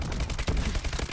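Rapid gunfire from a video game weapon that kills in three shots at any range, dense bursts of shots crackling loudly over about a second with no talk.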